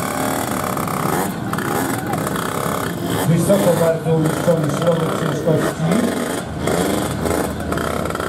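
Motorcycles riding at a motorcycle picnic in Pasłęk, their engines rumbling and revving at moderate volume beneath someone talking almost throughout.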